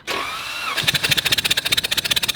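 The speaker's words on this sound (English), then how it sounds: "let's crank the engine over" A flood-damaged car engine cranks over: a whine from the starter, then a fast, steady chugging of rapid, evenly spaced pulses from the turning engine, close and loud, with no sign of it catching.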